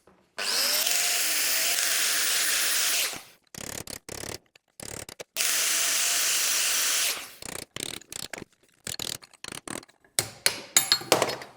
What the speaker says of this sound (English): take the grinder, make very careful cuts in this